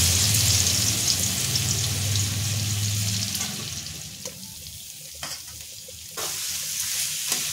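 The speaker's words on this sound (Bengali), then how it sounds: "এইবার ওই আলু ভাজার তেলেতে একটুখানি ঘি দিয়েছি, গরম মশলা ফোড়ন দিয়েছি, তেজপাতা দিয়েছি, দিয়ে রসুনটা দিয়ে দেবো" Garlic hitting hot potato-frying oil with ghee, whole garam masala and bay leaves: a loud, dense sizzle that gradually settles into softer crackling and spitting, close to the pan, with no talk.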